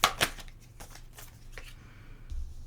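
Tarot cards are shuffled and drawn close up: quick riffling snaps at the start, then softer sliding and flicking of cards, with no speech.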